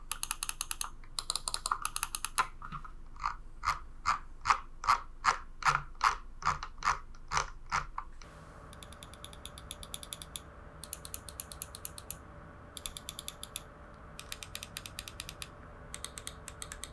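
Scroll wheel clicking on a G-Wolves Hati or Glorious Model O- gaming mouse: a quick run of crisp ratcheting ticks, then a steady train of detented clicks, and later fast bursts of finer clicks, close and quiet with no talking.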